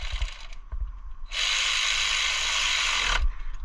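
An electric ratchet runs in one steady buzzing burst of about two seconds, preceded and followed by a few small clicks, while a coolant temperature sensor is fitted to the engine of a 2000-2006 Nissan Sentra.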